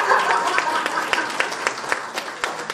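An audience applauds at the launch of Hema Malini's authorized biography "Beyond the Dream Girl", with Deepika Padukone present. The clapping is steady and moderately loud, with sharper individual claps standing out near the end.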